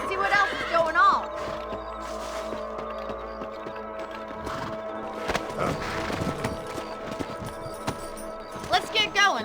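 A horse trots across open country in Red Dead Redemption, its hooves giving a steady, close clip-clop with tack jingling and an occasional snort, while a voice talks over the riding throughout.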